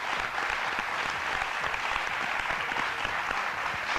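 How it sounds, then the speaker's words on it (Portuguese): Crowd applause for the town of Cuntis in Galicia, a steady dense patter of many hands clapping together without a break, with no voices standing out above it. "Un aplauso para Cuntis."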